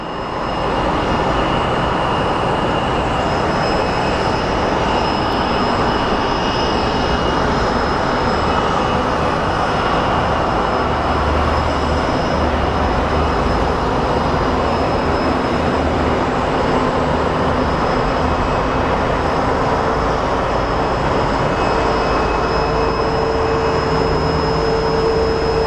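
A Horizon Air airliner at Sky Harbor Airport, its engines producing a loud, steady roar that holds without a break for the full length, with a faint whine riding above.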